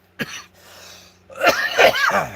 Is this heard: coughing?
yes